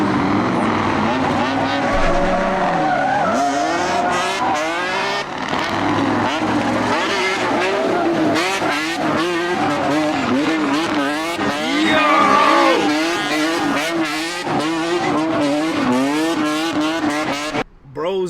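A fuel tank truck doing tandem burnouts, with loud, continuous engine revving that rises and falls in rapid surges, plus skidding tire squeal running throughout, under frequent talking.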